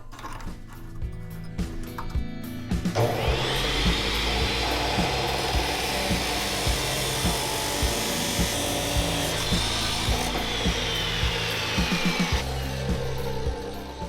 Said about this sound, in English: Now I just got to cut a 48-inch piece out of this longer piece of tubing.